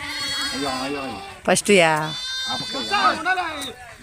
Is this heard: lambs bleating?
yes